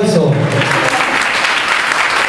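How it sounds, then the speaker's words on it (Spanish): An indoor audience applauds a teacher at a cultural event in Ciudad Madero, a dense, steady clapping that fills the whole moment, loud and continuous with no pauses. "Fuerte el aplauso"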